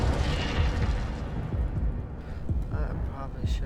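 Incendio fire spell cast in the video game Hogwarts Legacy, a series of deep, rumbling blasts and bursts repeating close and loud, with crackling fiery bursts and a shouting voice over them.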